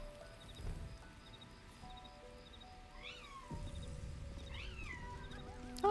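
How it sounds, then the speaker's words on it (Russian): A cat meows twice in Baldur's Gate 3, two short rising calls that sound faint and a bit distant over a soft, steady game ambience like light rain. "Аюшки, кошка."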